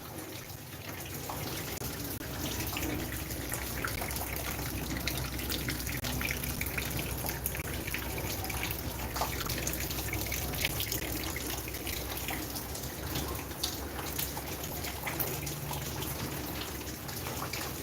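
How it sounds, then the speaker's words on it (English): Steady rain falls without a break, a dense, even hiss with soft drips and patter running throughout, moderately loud and close, with no voices. "The rains have subsided a bit,"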